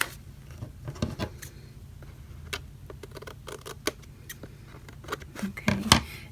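Scissors snip at the edges of a paper junk journal envelope made from trash, giving sparse, irregular close-up clicks and cuts with small paper rustles in between and a busier cluster of snips near the end.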